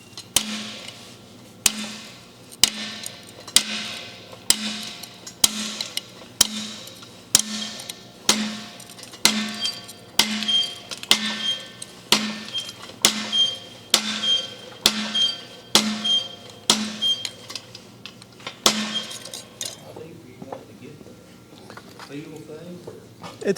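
Steady, evenly spaced hammer blows ring out on the face of a forge anvil, about one strike per second with a bright metallic ring after each, close and loud, ending with quieter handling sounds.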